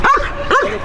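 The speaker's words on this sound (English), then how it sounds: "She's barking like I want." Two sharp barks from a protection dog in a bite-work training session, close and loud, spaced about half a second apart with no talk over them.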